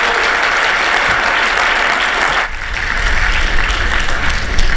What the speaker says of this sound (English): Everyone give a round of applause to Vab, please.